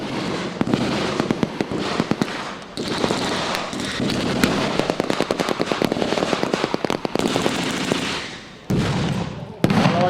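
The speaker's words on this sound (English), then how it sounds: "It's looking like there may be some mortar fire very shortly." Mortar and gunfire in a WW2 battle reenactment of the Sangro River fighting in Italy, loud rapid cracks and bangs packed densely together, with bursts continuing nearly nonstop and voices faintly underneath.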